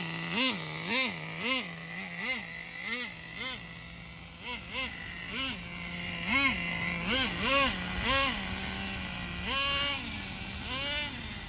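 A Thunder Tiger TS-4n RC car with a 4Tec Pro .15 nitro engine, whining and revving in repeated rising and falling bursts as it makes passes, near then slightly farther, with a voice talking over it.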